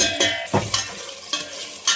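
Ginger garlic paste frying with fish pieces in a steel-brass pot, broken by several loud stirring scrapes and clanks over a soft sizzle, no voices.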